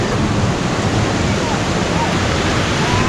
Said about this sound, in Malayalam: നമ്മൾ ഫോർട്ട് കൊച്ചി ബീച്ചിലെത്തിയിട്ടുണ്ട്. കടൽ തങ്ങി വരെ കയറി കിടക്കുന്നു.